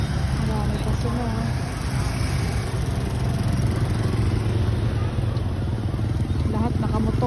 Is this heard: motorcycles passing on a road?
yes